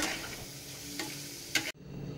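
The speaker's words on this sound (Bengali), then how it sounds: "আর এখানে মশলা ভাজা চালু করে দিয়েছে" A close, continuous sizzle of frying with a few light scraping stirs, then a sudden cut to a quieter hiss.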